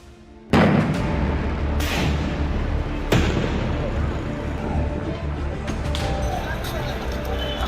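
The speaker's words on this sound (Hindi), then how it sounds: "कैनिंग इलाके में अस्पताल मोड़ पर अचानक एक के बाद एक 5 बम धमाके हुए हैं" Bomb blasts go off one after another at a hospital crossroads in Canning, South 24 Parganas, West Bengal: several loud, sharp booms over a constant, noisy outdoor background.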